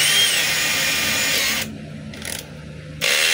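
A DeWalt DCD796 18V cordless hammer drill runs on test after repair, a loud close whine that drops out briefly, pulses, then returns at full speed.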